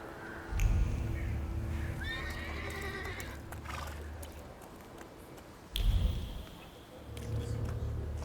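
A horse in The Thaumaturge game neighs with a rising whinny amid clip-clop hoof steps and heavy thuds, fairly close and alone without talk.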